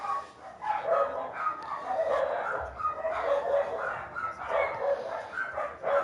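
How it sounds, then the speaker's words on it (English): Dogs bark and yip repeatedly in a busy, continuous stream, with some whimpering mixed in, fairly close and steady throughout. "damn dogs"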